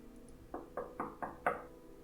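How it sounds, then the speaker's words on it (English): Five evenly spaced knocks on a hotel room door in the puzzle game Rusty Lake Hotel, crisp and moderately close, with nothing else heard. "I'm just knocking on all the doors."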